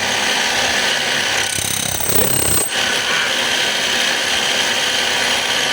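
A DeWalt D25901 10 kg jackhammer runs under test with a dense, continuous loud mechanical roar and hammering buzz, close by, a brief dip in the middle as the load changes, no speech.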